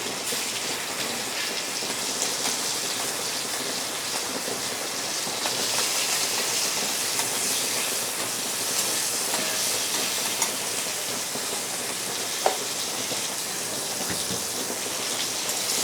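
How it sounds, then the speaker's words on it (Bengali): Prawns fry in hot mustard oil in a wok with a steady, dense, close sizzle and crackle that keeps up continuously, with occasional sharper pops and no talking. "আমি কড়াই তেল গরম হয়েছে, আমি চিংড়ি মাছ দিয়ে দিচ্ছি।"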